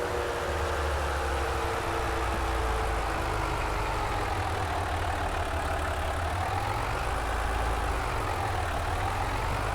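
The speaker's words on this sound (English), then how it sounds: "our little tractor is happily grinding away at the grinding" Farming Simulator 25 tractor engine running steadily as it works a grinder, a continuous low idling drone with mechanical whir that stays loud and unbroken throughout, with no talking.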